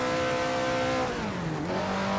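Pre-war 1930s Maserati 8CTF race car engine at historic Monza in Assetto Corsa, a loud steady drone that dips in pitch as the car lifts off, then settles again.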